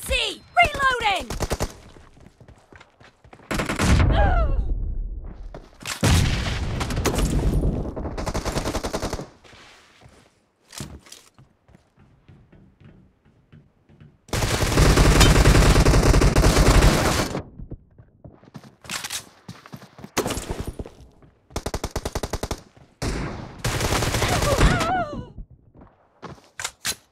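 Gunfire in a team deathmatch shooter video game: repeated bursts of automatic fire and single shots, loud and close, with a long sustained burst midway and silent gaps between volleys.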